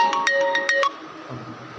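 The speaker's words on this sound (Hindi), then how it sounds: "फोन आ गया है।" A phone ringtone chimes in a quick run of bright electronic notes for under a second, then cuts off, leaving quiet room tone.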